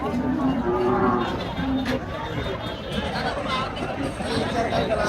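Cattle at the Chalisgaon bull market in Maharashtra give low moos amid a constant crowd murmur and chatter, with people talking nearby throughout.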